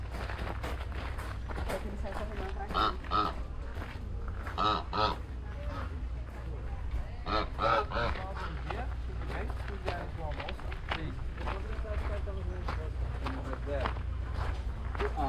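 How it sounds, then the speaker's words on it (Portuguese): A goose honks near pedal boats at a lakeside park, a few brief honks rising over steady outdoor background noise, footsteps and nearby chatter. "Olha o ganso. Ele vai com os, os pedalinhos."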